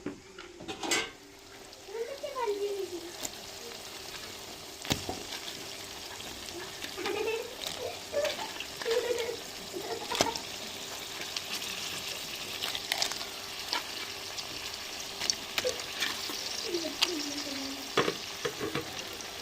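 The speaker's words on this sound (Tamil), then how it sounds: "கொத்தமல்லி இஞ்சிருக்கு நண்டையும் சேர்த்துக்கிறோங்க" Crab fries in a pan with coriander and ginger, a steady sizzle with frequent stirring scrapes and sharp utensil clinks against the pan, close and continuous.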